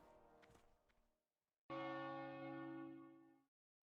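The Stormwind bell tower in World of Warcraft strikes a single loud, resonant toll after a few faint sounds. Its ringing tone slowly decays and then cuts off.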